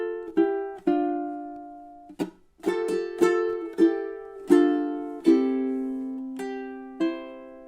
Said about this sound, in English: And what's a really nice sequence here is measure 18 and 19 should sound something like this.